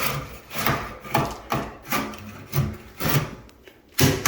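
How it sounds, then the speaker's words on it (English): Repeated rough scraping strokes against wood as old trim is scraped off, about eight in a steady rhythm, close and fairly loud. "we come in here and we scrape all this up"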